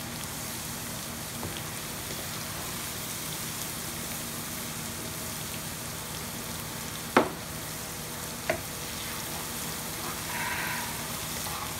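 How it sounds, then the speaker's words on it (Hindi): Okra sizzles in a pan with a steady hiss of frying, quiet and close, broken by a couple of sharp clicks from a utensil midway. "बस इसको हम करेंगे फ्राई"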